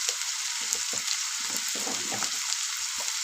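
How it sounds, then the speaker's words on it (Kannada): Lentils (dal) frying in a pan give a steady bright sizzle with soft, irregular stirring scrapes underneath, close and moderately loud. "ಬ್ಯಾಳಿ ಸ್ವಲ್ಪ ಫ್ರೈ ಮಾಡ್ಕೊಳ್ಳೋಣ"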